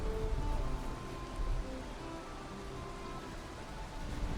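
Steady rain falling in the video game Valheim, a continuous soft hiss of drops with a faint low rumble underneath, quiet and even throughout, no talking.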